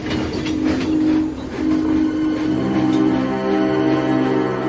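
A long line of goods trucks pulled by a small engine rolls along the rails with a steady rumble and clatter, loud and close, with a sustained tonal squeal running throughout.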